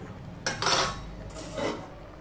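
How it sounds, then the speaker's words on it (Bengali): A lid set onto a cooking pot on a stove, giving two brief metallic clinks and scrapes, close and fairly soft against quiet kitchen background. "এবার আমি ঢাকা দিয়ে দিলাম,"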